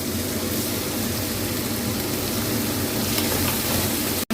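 Chopped tomato frying in hot oil makes a dense, even sizzle, close and fairly loud, holding steady with a faint stirring texture before cutting off abruptly at the very end.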